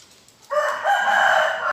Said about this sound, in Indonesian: Dan ini ayam jago biasa,